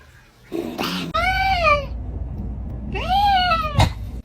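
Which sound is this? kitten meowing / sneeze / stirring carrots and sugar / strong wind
kitten meowing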